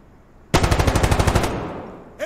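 Automatic gunfire in the tactical shooter game Insurgency Sandstorm: a loud, rapid burst of about a dozen evenly spaced shots lasting roughly a second, then a decaying echo tail and a brief mechanical clack at the end.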